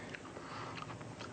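Someone bites into and chews a cookie up close, the crunchy mouth sounds filling a short moment.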